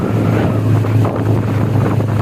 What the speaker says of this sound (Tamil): இந்த பைக் சவுண்ட் எப்படி இருக்குன்னு கேளுங்க